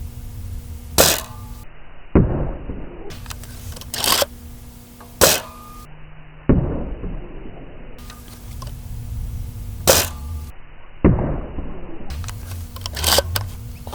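A Nerf sniper blaster fitted with metric hardware fires several separate shots, each a sharp, close, loud pop followed by mechanical clicking and handling noise during reloading, spaced a few seconds apart.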